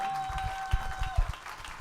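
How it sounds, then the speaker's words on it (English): Audience at a live comedy show applauds the evening's guests, a steady wash of clapping from a crowd with a few louder thumps, heard briefly under faint room noise. "let's one more big round of applause for all my guests this evening"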